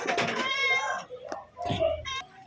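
Cats meow close by while eating squash, with several drawn-out meows and a person's voice talking softly among them.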